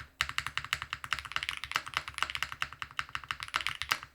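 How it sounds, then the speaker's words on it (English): Steady typing on a DK1-TKL mechanical keyboard with a copper or brass bottom: quick, close, even clacks in a brisk rhythm with no talking. "But the moment we start typing on it,"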